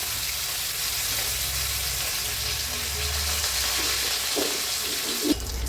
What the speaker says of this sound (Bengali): এইবার মাছগুলোকে একে একে ভেজে নেব।